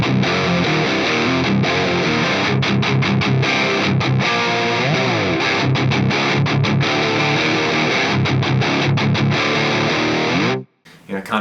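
Electric guitar played through a Soldano Hot Rod 50+ amp with the overdrive around 4.5, a thick, distorted late-80s style rock tone with continuous riffing and chords, loud and up front, cutting off abruptly near the end.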